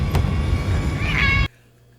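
A single drawn-out meow, loud and close, rising in pitch toward its end before cutting off abruptly into near silence.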